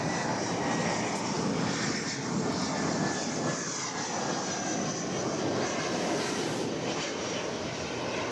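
A fixed-wing passenger jet on the El Paso flight roars at DFW Airport, its engine noise a broad, steady rush that stays loud and near for the whole stretch.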